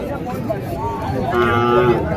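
A heifer at a cattle market lows over a steady crowd murmur, with the moo rising in the second half. People talk in the background.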